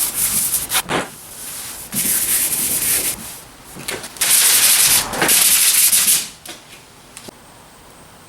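Hand sanding a truck body with 180 grit sandpaper, close raspy strokes in uneven bursts, some short and some long, with brief pauses between them.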